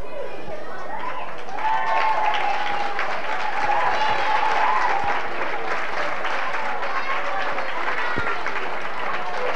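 Spectators at an under-14 Gaelic football league final applaud a departing player, a sustained wash of clapping and crowd noise mixed with shouts and whistles, with talk over it.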